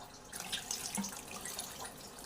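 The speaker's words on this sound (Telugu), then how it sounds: "ఇప్పుడు ఇందులో నీళ్లు వేసుకుందాం ఫ్రెండ్స్" Water is poured from a tap onto mutton trotters in a vessel, a soft, steady splashing trickle that stays fairly faint throughout before a brief louder knock at the end.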